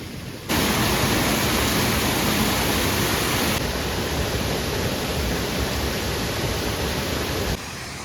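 Small waterfall at Agumbe, a steady broadband rush of falling water, loud and close, holding even for about seven seconds after starting abruptly, with no voices.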